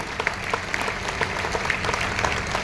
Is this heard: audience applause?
yes